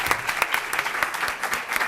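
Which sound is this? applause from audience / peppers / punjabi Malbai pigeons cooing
applause from audience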